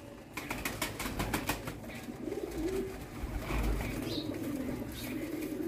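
Pigeons coo in a loft, a low rolling murmur repeating through the clip, with a few light flutters and soft clicks near and steady underneath.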